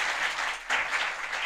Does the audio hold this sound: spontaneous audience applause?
yes